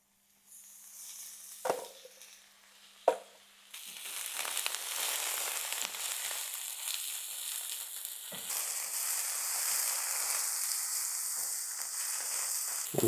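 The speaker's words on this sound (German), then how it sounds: "In die heiße Pfanne geht ein guter Schluck Öl. Und dann braten wir zuerst mal unsere Pilze an." Mushrooms frying in a good splash of oil in a hot pan: a couple of sharp clatters, then a loud, steady sizzle and crackle that grows brighter and fills the rest of the clip.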